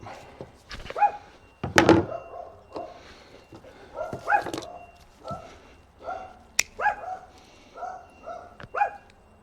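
Repeated short barks from a dog at close range, coming in irregular bursts with a sharp knock or thump partway through.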